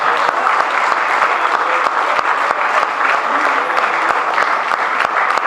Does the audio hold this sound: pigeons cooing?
no